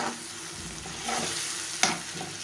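Chopped tomatoes go into hot frying masala for an egg Anda Chingari, giving a steady close sizzle with stirring and a sharp spattering burst partway through.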